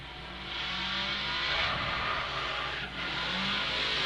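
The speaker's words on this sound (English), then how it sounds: "that truck sounds good right now" A fire truck engine running at a firefighters' drill competition, a steady roar that swells as it picks up speed and rises to a peak before dipping briefly and holding on.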